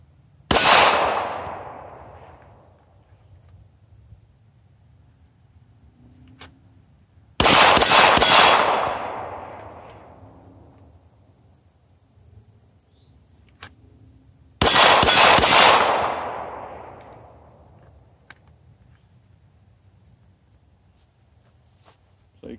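Three single pistol shots ring out about seven seconds apart, each a sharp crack followed by a bright metallic clang from a steel target that decays slowly, with faint insect chirring in the quiet between.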